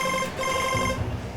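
A telephone rings in a steady electronic trill for just over a second, fairly close and loud, with no talking over it.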